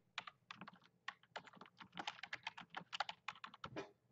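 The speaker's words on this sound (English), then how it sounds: "At the top, type in the team name" Computer keyboard being typed on in quick irregular bursts of crisp clicking keystrokes, close and fairly quiet, with no talking.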